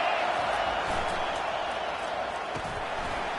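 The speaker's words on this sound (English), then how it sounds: "This crowd bringing the energy and noise early." Stadium crowd noise in a college football video game matching Kentucky against Louisville, a loud continuous roar of fans with scattered thumps, heard beneath a commentator's voice.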